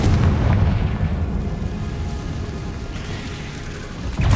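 A Confringo fire spell blasts in Hogwarts Legacy, producing a loud, rumbling explosive roar that swells at once and slowly fades over several seconds, followed by a fresh low impact at the end.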